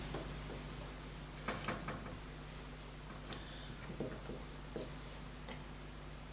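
Pen or marker writing out a maths sequence-and-series problem on a board or page, heard as quiet scratchy strokes in short bursts over a steady hum, with no talk.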